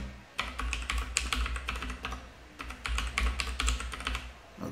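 Fingers typing a password on a computer keyboard, a quick, uneven patter of close key clicks in short runs, with a low background hum and no speech.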